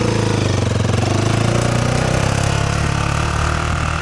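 A car engine runs hard and steady on a snowy lot as the driver dumps the clutch, a loud, close, rough mechanical drone with a constant pulsing throb and no voices.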